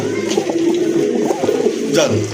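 Female pigeon cooing close by in a busy pigeon market, soft throaty warbling coos that repeat under people talking.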